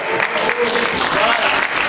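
Congregation clapping together at a church Christmas party, a brisk, close burst of applause with a voice faintly underneath.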